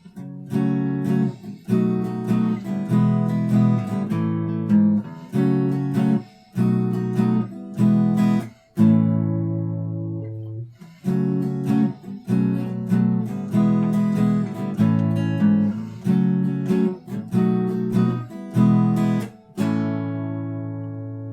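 An acoustic guitar strums a slow chord progression, each chord ringing out before the next, with a brief pause midway and no voices.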